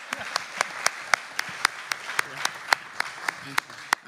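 Sparse hand claps from a small audience at a theatre season unveiling, sounding as a few distinct, fairly close individual claps in a loose, irregular rhythm rather than a full ovation.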